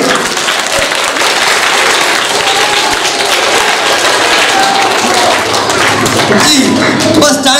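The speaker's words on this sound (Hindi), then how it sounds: "तालियां जोर से बजाएंगे।" Loud, sustained audience applause fills a hall, a dense steady roar of clapping with voices mixed in that continues throughout.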